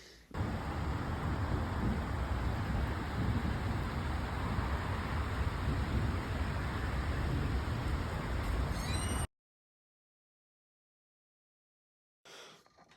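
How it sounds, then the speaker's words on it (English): Steady broadband rain hiss fills most of the clip during a thunderstorm, loud and continuous with no distinct thunder claps standing out, then cuts to silence before a brief return of the noise. "got some rain. I don't know if you could hear the thunder in the video"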